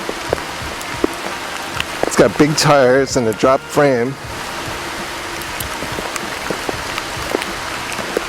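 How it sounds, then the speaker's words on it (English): Steady rain falls outdoors, making an even hiss throughout, while someone talks briefly over it in the middle. "Here comes the rain."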